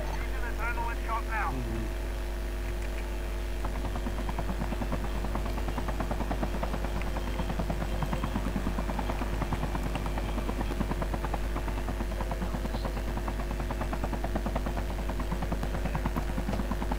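Helicopter in a video game: a steady, continuous rotor and engine drone throughout, moderately loud, under other game sounds and a voice talking.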